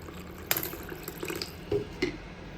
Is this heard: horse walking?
no